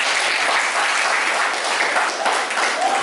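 A classroom of students claps together in sustained, dense applause lasting the full stretch at steady volume, close and lively, with no voices standing out.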